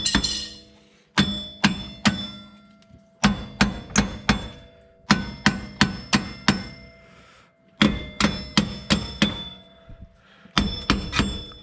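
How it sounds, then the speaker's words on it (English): A 4-pound sledgehammer knocks a stuck axle out of a Nissan 350z during an axle and wheel bearing swap, giving loud, ringing metallic clangs in quick bursts of three to five blows separated by brief pauses. "It was kind of hard to swing a 4-pound sledge and hold a camera at the same time"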